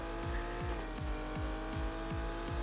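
Rally car engine in the Old School Rally video game, a synthetic motor tone with quick repeated gear-change sweeps rising and dropping in a fast rhythm, moderately quiet and without talk.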